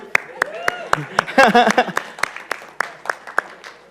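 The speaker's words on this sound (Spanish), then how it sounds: "Pero gracias, un aplauso." Applause during a church talk, sparse individual claps spaced through the moment, with a voice speaking over the middle stretch and the clapping thinning out toward the end.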